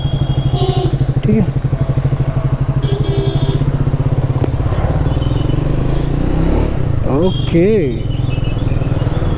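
Triumph Speed 400 motorcycle engine running with a steady low throb and a brief rev, close by, under near-continuous talk from a rider.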